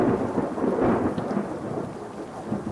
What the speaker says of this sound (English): Thunder and rain marred the hastily forced wedding.